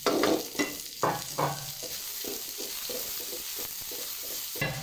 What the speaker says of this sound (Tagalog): isunod na natin dito yung ating sibuyas